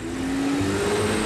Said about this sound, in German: Der Kombi fährt davon.